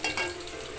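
Ginger and garlic fry with onions in hot ghee, giving a brief, steady, close sizzle.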